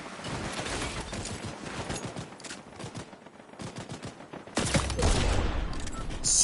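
Rapid gunfire in the video game Fortnite, a dense run of shots throughout with a louder, closer burst toward the end, in a solo squads blitz match.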